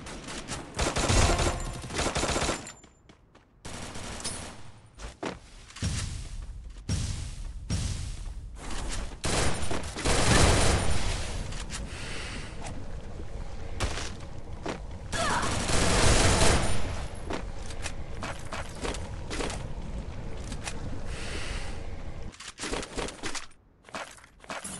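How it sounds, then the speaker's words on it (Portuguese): Bursts of gunfire in the Free Fire video game, rapid volleys and scattered single shots, some loud and close, others fainter, with brief pauses between exchanges across a busy battle. "o cara me atirou do nada"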